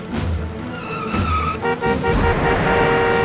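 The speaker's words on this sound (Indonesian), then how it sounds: "Ada mobil, Mas!" A car approaches and passes close by at speed, its engine roar rising and swelling over a few seconds, with a brief squeal-like tone and no talk over it.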